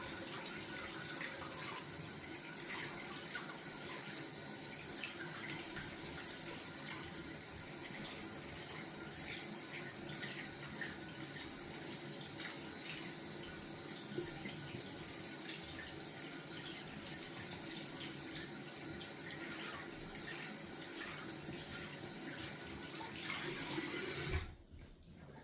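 Tap water runs steadily for a long stretch while a shaving brush is washed out in a sink, a constant close gush with faint splashes that stops abruptly near the end.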